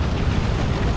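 A plasma cannon blown apart in a Dawn of War 2 battle, heard as one dense, loud, sustained blast filling the moment with a deep rumbling roar.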